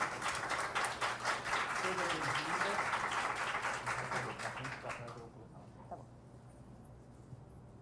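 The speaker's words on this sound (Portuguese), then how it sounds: "palmas para a Ana," A small audience gathered for a Saturday-morning talk claps steadily for about five seconds, and the applause then dies away into a quiet room with faint background murmur.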